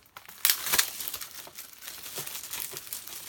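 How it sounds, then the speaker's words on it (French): Plastic wrapping on an Alien 40th Anniversary 4K Ultra HD/Blu-ray combo crinkles and crackles up close as it is unwrapped, with a sharp tearing burst near the start followed by steady rustling. "Je vais vous le déballer."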